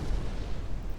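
Naval guns firing a salvo in the Ultimate Admiral Dreadnoughts game, a dreadnought fighting modern cruisers: a deep, rolling boom that rumbles without a break for about a second.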